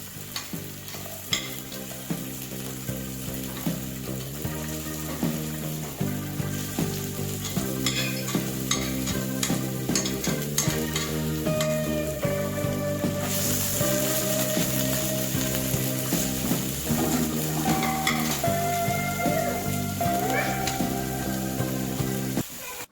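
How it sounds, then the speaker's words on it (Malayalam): Cinnamon, cloves, cardamom, bay leaf, a small piece of ginger, three green chillies and an onion sizzle steadily in hot oil for a Kerala vegetable kurma, with frequent close scraping and clinking as a spoon stirs them around the pan. "ഇതിലേക്ക് പട്ട, ഗ്രാമ്പു, ഏലക്ക, വഷ്ണയില, ഒരു ചെറിയ കഷ്ണം ഇഞ്ചി, 3 പച്ചമുളക്, 1 സബോള എന്നിവ ചേർത്ത് ഇളക്കുക."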